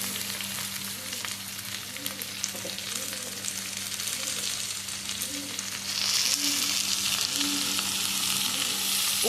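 Tomatoes with salt frying in a pan for dhaba-style dal tadka, a steady close sizzle with bubbly spitting over a constant low hum, growing slightly louder and brighter toward the end.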